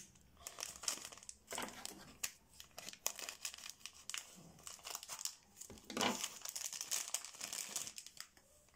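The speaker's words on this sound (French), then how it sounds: "J'ouvre un autre. Le paquet était encore collé." Continuous crinkling and rustling of a plastic wrapper as a stuck-together package is pulled open, close and steady with sharper crackles and tearing bursts throughout.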